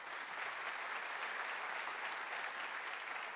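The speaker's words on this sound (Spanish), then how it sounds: "Un aplauso a Jesús." Applause from a church audience fills the room in a sustained, even wash of many hands clapping, steady and moderately distant, with no voices standing out.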